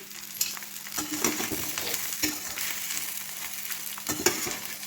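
Bitter gourd fry sizzles in a pan while being stirred, with a continuous frying hiss broken by repeated scraping knocks of the spatula, close and alone.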